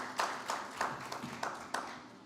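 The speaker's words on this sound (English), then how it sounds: "So let's give a huge round of applause to the organizers." Sparse audience clapping at a financial inclusion summit in Africa, a handful of distinct claps landing in an uneven rhythm, fairly quiet and brief with no voices over it.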